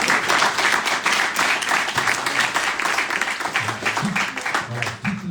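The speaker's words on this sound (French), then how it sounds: "Je voudrais qu'on l'applaudisse très fort." An audience at an evening gathering applauds loudly and steadily for a person being honoured, a dense sustained clapping with some voices mixed in toward the end.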